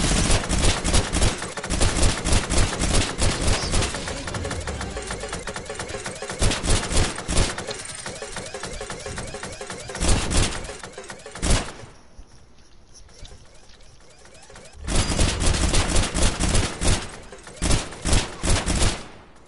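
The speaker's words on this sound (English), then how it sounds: "How much shooting is that?" Rapid bursts of gunfire from a video game shooter, loud repeated volleys and machine-gun rattles with brief lulls, while players talk over the action.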